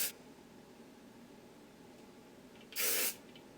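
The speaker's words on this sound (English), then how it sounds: "So this is just holding it in place and spraying it down." A single short burst of hair spray from an aerosol can, hissing loudly for under half a second after a quiet stretch, with a faint earlier puff at the start.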